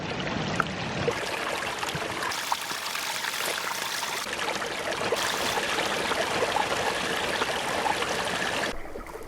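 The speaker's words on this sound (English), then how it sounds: "the stream that we're by is called Bollyhope Burn" Water in Bollihope Burn, a stream in the North Pennines, County Durham, rushes and splashes without a break, a close, full flowing sound with no voices.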